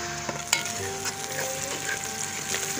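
Onions sizzle steadily in a hot pan for chana curry, a constant loud frying hiss broken by a few clinks and stirring scrapes, with no talking.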